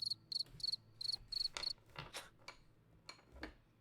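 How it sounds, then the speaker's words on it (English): A soundboard cricket effect plays several quick bursts of high, pulsing chirps, followed by scattered soft clicks and rustles at close range, with no talking. "all you hear next are crickets"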